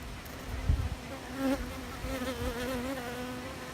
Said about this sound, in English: That is a bee coming out of a cell.